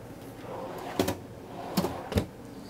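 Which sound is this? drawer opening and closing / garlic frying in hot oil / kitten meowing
drawer opening and closing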